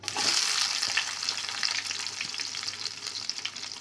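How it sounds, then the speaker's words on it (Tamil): Small onions frying in hot oil with popped mustard seeds, a steady close sizzle with crackling bursts and occasional stirring scrapes. "வெங்காயம் சேர்த்துட்டு நல்லா ஃப்ரை பண்ணிக்கோங்க"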